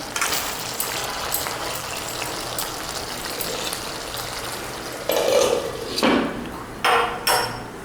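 Spicy chicken curry cooking in oil in a pot, with a constant bubbling sizzle first, then bursts of louder scraping and clattering as a spoon stirs it and knocks against the pot near the end.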